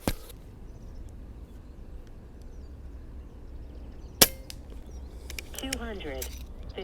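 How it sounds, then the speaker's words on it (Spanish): An AirMaks Katran air rifle fires a single JSB pellet into the ground outdoors on a windy day, a sharp crack standing out against faint wind and ambient noise, followed by a short burst of voice. "voy a hacer un primer disparo al suelo, el JSB el que hay dentro, así que venga, voy a disparar rápido"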